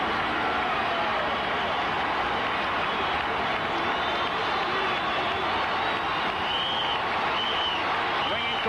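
Crowd of 50,513 at a baseball ballpark during the 1981 ALCS Game 3, a steady broad roar with scattered clapping and shouts building through a bases-loaded, two-strike count, loud and continuous under a faint commentator voice.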